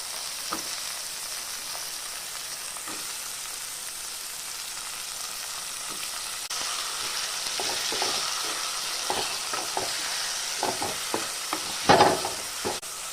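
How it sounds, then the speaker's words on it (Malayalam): Onions and tomatoes fry and sizzle in a pan with a steady hiss, while a spoon scrapes and stirs in irregular clicks that grow busier and louder toward the end. "അപ്പോൾ തക്കാളി നന്നായി വെന്ത് കിട്ടട്ടെ അതുവരെ നമുക്ക് ഇളക്കി കൊടുക്കാം"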